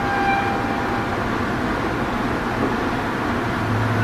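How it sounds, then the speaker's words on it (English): Inside a Rail Runner commuter train in motion, a steady low rumble and broadband hum of the carriage continues evenly, with no talking. "I'm on the train heading home right now"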